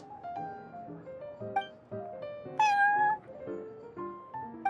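In the game's Cat's Tail tavern, a cat gives a rapid series of meows. The close, bright, varied mews run one after another, and one louder, higher, drawn-out cry comes in the middle.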